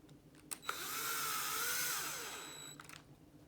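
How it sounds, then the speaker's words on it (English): A power drill drives screws into a Team Associated B74 RC car, with one sustained whirring run of rising and falling pitch after a couple of short clicks, close and alone with no talking. "I'm gonna bring back Mr. Drill, and it's calling for 2"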